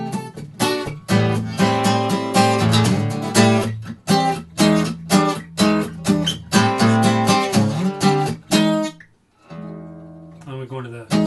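Guitar lesson passage from a segue of one song into another, played as bright, rhythmic strummed chords with short choked stops, then a quieter plucked phrase near the end.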